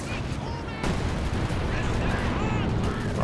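Gunfire in a Company of Heroes 2 match, anti-tank rounds among it: dense overlapping shots and booms over a noisy battlefield roar, with whistling tones, heard beneath a commentator's voice.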